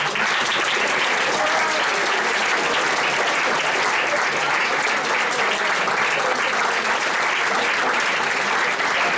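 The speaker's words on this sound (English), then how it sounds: "so give them a round of applause." Steady, loud clapping fills a hall as an audience applauds after a school production of Julius Caesar, dense and unbroken from start to finish.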